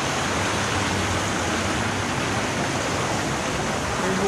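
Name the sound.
flowing spring water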